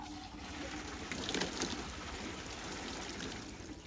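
Water pours into a container with a soft, steady trickling wash, faint and continuous, swelling slightly midway.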